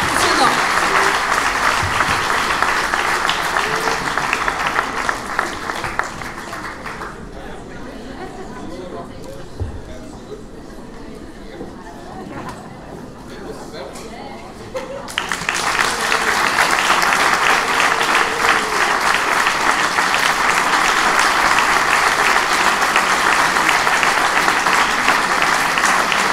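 A live audience breaks into sustained applause that rises loud and dense, dips briefly midway to a thinner patter with murmuring, then swells back to full strength until the end.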